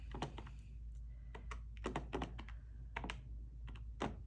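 Keys tapped on a sticky calculator, a quick irregular run of crisp clicks close by over a steady low hum, with no talking.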